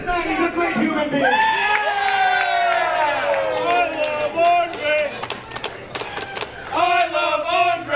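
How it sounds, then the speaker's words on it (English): Crowd at a pro wrestling event yelling and cheering loudly and continuously, with voices shouting and chanting in swells throughout, bursts of whoops near the end. "But cheer this man, he's a great human being."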